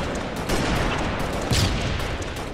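Dense, continuous gunfire from shooting at enemies in a video game, a rapid barrage of overlapping shots at steady loudness with a slightly heavier burst midway.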